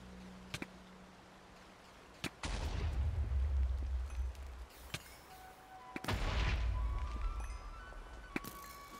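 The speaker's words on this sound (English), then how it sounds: "that explosion sound, you're going to hear that anytime you kill a blaze-style creature" Killing a blaze-style creature (a Blizz) in modded Minecraft sets off an explosion: two heavy, rumbling booms a few seconds apart, each lasting about two seconds, among sharp clicks and shots.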